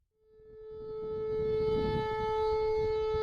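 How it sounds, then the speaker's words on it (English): A malfunctioning tornado siren sounding a single steady tone that swells up over the first second and holds, distant and echoing, with no voices. "it's likely just a malfunctioning tornado siren,"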